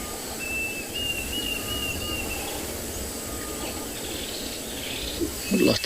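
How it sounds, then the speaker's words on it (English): Diederik's cuckoo and grey-headed bushshrike call at a South African safari site in the morning. Thin whistled notes repeat across the clip at moderate distance, over a dense bed of insect and cricket buzz. "Lots and lots of bird activity with all the termites from yesterday. Here, Diederik's cuckoo and grey-headed bushshrike"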